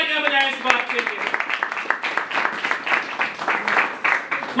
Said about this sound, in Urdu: زوردار تالیاں بجائیں اس بات کے لیے